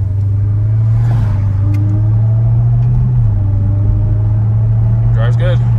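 A Jeep Trackhawk driven on a short test run gives a steady, loud, low engine drone from inside the cabin, with a small shift in pitch midway and a brief voice near the end.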